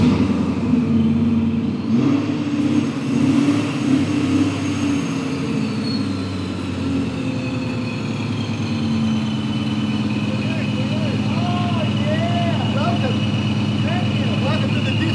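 A car engine runs steadily with low rumbling and a gradual rise in revs, while people talk over it throughout.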